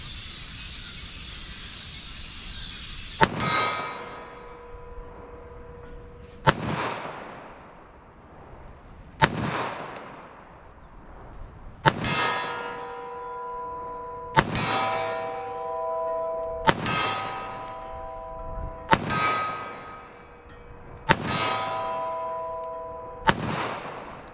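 Eight loud .45 ACP shots from a Glock with a matched barrel, fired at an outdoor range, each sharp crack followed by a ringing clang from a steel target and a decaying echo, spaced a few seconds apart.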